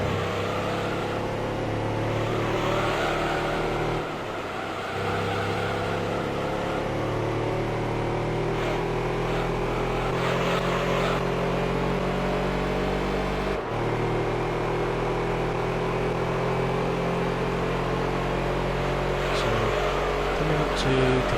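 Race car engines in Gran Turismo 3 drone steadily through a long lap, with a continuous rising and falling engine whine and occasional shifts in pitch, while someone talks over the sound throughout.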